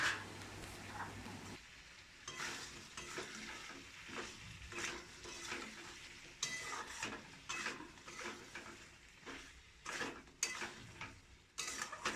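Fried potatoes stirred into chicken curry in a pot for Bengali home-style chicken aloo jhol, with soft sizzling and scraping of a spoon against the pot in uneven bursts, close and fairly quiet, no talking.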